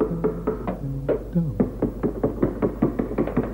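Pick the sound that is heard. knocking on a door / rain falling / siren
knocking on a door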